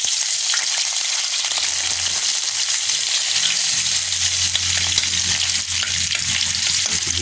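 Vegetables and onions sauté in a pan for an Ilocano bulanglang, giving a loud, continuous sizzle that holds steady throughout, with soft low rumbles underneath and no talking.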